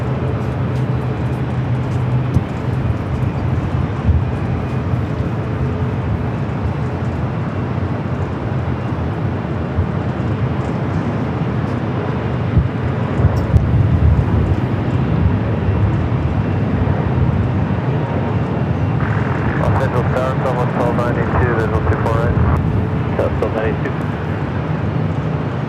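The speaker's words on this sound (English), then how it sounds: "Super Airbus on a mile final, runway 24 right, clear to land" An Airbus airliner lands on runway 24 right at LAX, a steady broad jet roar and rumble running throughout, with people talking over it.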